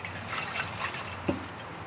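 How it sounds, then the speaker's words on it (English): Washer fluid sloshes and swishes inside a Carlstar Versa Turf tractor tire as it is rotated: soft, continuous liquid churning with one brief duller knock partway through, no talking. "You can hear the washer fluid in there sloshing around"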